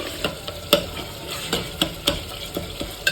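Tomatoes cooking in a pan, with a spoon stirring them in a string of sharp scrapes and clinks spaced through the clip over a steady soft sizzle.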